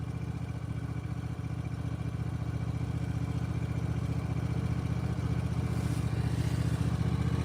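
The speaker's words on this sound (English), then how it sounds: "Yeah, the tractor's doing a lot better than I thought, man." A small tractor engine runs steadily while clearing about two feet of snow, a continuous close chugging drone with rapid rhythmic pulsing and no talk.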